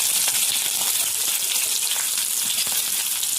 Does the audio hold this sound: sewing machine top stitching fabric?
no